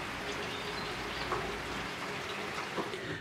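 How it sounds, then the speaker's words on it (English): Rain falls steadily outside a home workshop during an old radio repair, a dense even hiss that holds at a constant level throughout with no one speaking. "We've got some rain at last."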